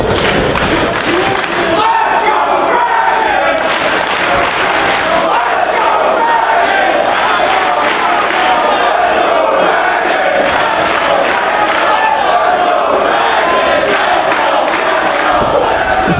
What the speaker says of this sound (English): This place is absolutely electric, Levy. Oh, you have to be here live to experience an atmosphere like this with the crowd chanting for both Dragon and Briscoe